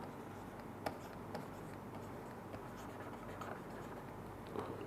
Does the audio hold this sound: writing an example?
yes